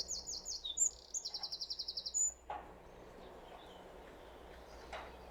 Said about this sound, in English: I think that was a tiny little wren just singing to us there.